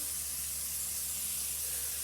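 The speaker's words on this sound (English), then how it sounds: "We're going to come back with this butter spray." Butter spray from a pump bottle is misted over pork ribs in a steady, unbroken hiss that stays level and close throughout, with a faint low hum underneath.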